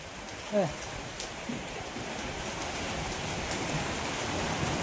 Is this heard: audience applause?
no